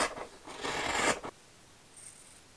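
Scissors cutting away jersey fabric at the neckline of a sewn top, a short rasping snip-and-rub lasting about a second, close and fairly quiet, then near silence.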